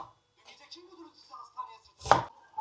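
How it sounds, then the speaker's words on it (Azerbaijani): An onion is chopped finely with a knife while cooking a dish of fried chicken and mushrooms: a few quiet kitchen sounds, then one sharp, close chop near the end. "Soğanımı qıp-qıp doğrayıb üzərinə əlavə edəcəm."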